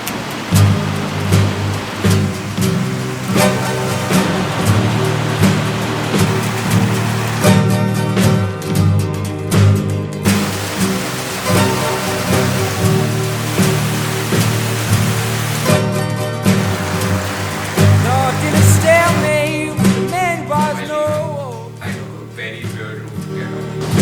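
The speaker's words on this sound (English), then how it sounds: "I'm at some waterfall right now and this is how it looks like." Water pours down steadily at a waterfall near Manali, a broad continuous rush mixed with music throughout.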